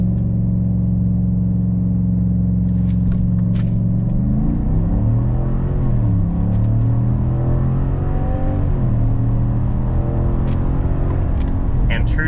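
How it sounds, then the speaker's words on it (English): A Chevrolet Silverado V8 truck, brake-revved and then launched for a 0-60 run, rumbles loudly at a steady idle-like drone before the engine note climbs and shifts through rising revs, close and continuous. "Brake rev."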